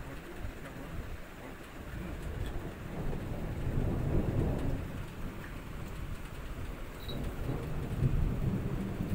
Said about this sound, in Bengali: জোরে জোরে মেঘ ডাকলো বিদ্যুৎ চমকালে।